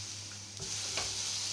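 An egg dosa cooks on a hot griddle pan, giving a steady, soft sizzle with a faint hum beneath and one or two light scraping touches.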